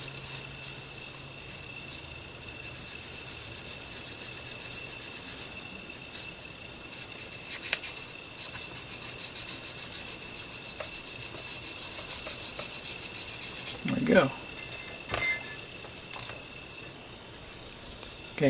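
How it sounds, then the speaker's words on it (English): Sandpaper lightly rubs paint residue off a Paasche H airbrush in steady, soft scratchy strokes close to the ear, continuing for a long stretch with a few sharper small knocks near the end. "I just kind of lightly sand off any of the paint residue"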